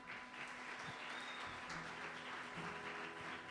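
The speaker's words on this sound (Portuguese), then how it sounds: "Aplauda ao Senhor" A church congregation claps during worship, a steady, fairly faint wash of many hands with a held musical tone underneath and scattered louder claps.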